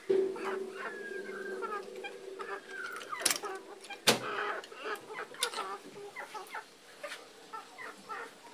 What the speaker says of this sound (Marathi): तर आता आपण मोठी कोंबडी सोडूया.